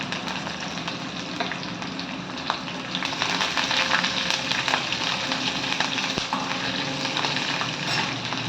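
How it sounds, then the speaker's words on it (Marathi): Green chillies and curry leaves hit hot oil for a tempering while making soft upma, giving a steady, close sizzle and crackle that grows a little louder partway through, with no talk over it. "आता आपण मिरच्या आणि कढीपत्ता हे घालणार आहोत।"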